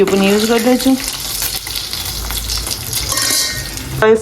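Fish fries in a hot pan with a loud, continuous sizzle and crackle, joined by a few stirring scrapes and a short vocal sound at the start and end.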